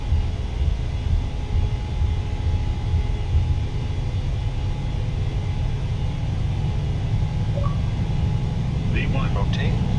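An airliner's takeoff roll in Microsoft Flight Simulator on a Los Angeles to Phoenix flight gives a steady low engine and runway rumble, with a voice faintly present over it.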